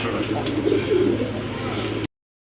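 A pair of Rajgola pigeons coo softly and continuously over a low background hum, close and steady, ending abruptly.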